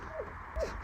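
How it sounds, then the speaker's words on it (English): Two short raven calls ring out in a snowy canyon at an ice climbing park, brief quiet croaks spaced about half a second apart over faint background ambience. "That's a raven call."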